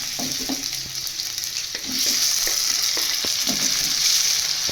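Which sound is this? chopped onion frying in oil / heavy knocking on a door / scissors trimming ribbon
chopped onion frying in oil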